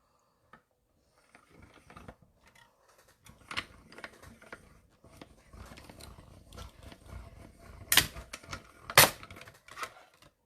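A die-cutting machine presses a die through card, giving a series of sparse clicks and grinding crunches that build to two sharp, loud cracks near the end, close and with no voice.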